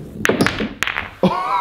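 A pool cue strikes balls on a table for a game-winning shot, a few close sharp knocks and thuds in quick succession, then a brief voice.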